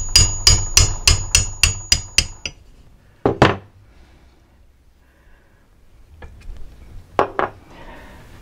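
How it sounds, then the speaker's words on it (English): A tapered punch is hammered into the end of cut tubing, starting with a fast run of about eight sharp metallic strikes, then a pause, a quick pair of taps, and another close pair later. "And I fix that with a tapered punch."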